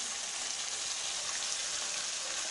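Half a kilo of chicken fries in a pan for chicken korma, giving a steady, even sizzle with no pauses, soft and close with no talking.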